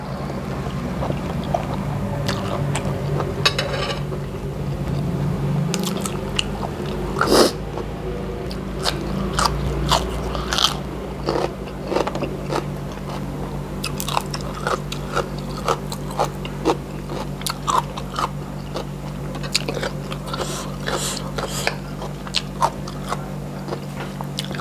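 Close, repeated bites and chewing of spicy Thai rice noodles (khanom jeen) with chicken curry, eaten with stink beans and cha-om greens, the crunchy, squishy mouth sounds steady for most of the stretch with no talk.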